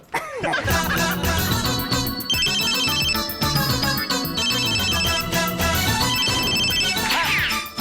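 A telephone ringtone plays loudly and continuously in a scene from a Kannada TV serial, a repeating electronic melody that carries through the whole stretch with almost no other sound.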